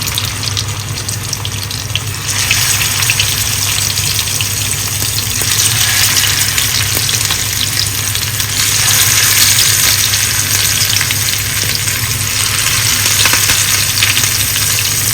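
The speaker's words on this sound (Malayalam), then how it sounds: "അപ്പം നമുക്ക് മീൻ വറുക്കാനായിട്ട് ഇങ്ങനെ നിരനിരയിൽ ഇട്ട് കൊടുക്കാം" Loud, continuous sizzle of fish frying in hot coconut oil close up, crackling steadily with a few swells in intensity, no voices.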